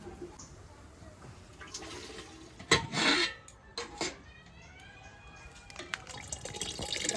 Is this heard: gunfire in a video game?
no